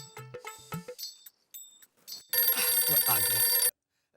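A telephone rings loudly in a bright, continuous electronic burst lasting about a second, after a series of short clicks and tones like buttons being pressed on a handset.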